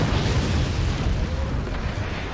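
Flat cannons firing in the physics strategy game Forts, a dense run of deep booms and blasts blurring into a loud, continuous rumble with no talk over it.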